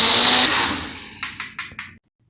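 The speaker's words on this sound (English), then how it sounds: "I'm going to blend this up in this blender" Close and loud, a kitchen blender whirs at full speed grinding oatmeal and baking soda, then cuts off and winds down, with four quick pulsed bursts before stopping.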